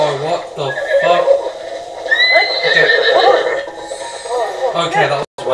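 A horse in The Legend of Zelda: Breath of the Wild gives a loud, drawn-out neigh with clip-clopping hooves, plus game sound effects, while a player talks over it.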